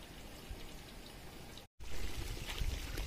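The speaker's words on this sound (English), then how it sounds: "So we're going to allow it to boil." Chicken party stew boils in a pot with a close bubbling, popping sound, broken by a short cut of silence midway before the bubbling resumes a little louder.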